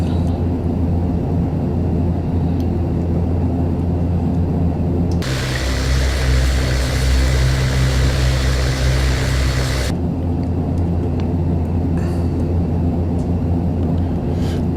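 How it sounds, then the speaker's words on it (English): Turboprop engine of an ATR 72-500 in the Prepar3D flight simulator spooling up into a loud, steady roar for several seconds, sitting over a constant low engine drone before and after. "we should be able to start up our prop"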